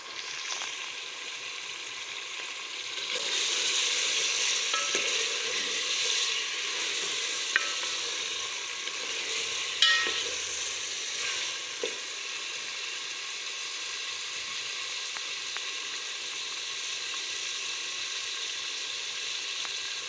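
Tomatoes sizzle steadily in a hot frying pan, a continuous bright crackle with occasional stirring clicks and scrapes, close and alone with no voices.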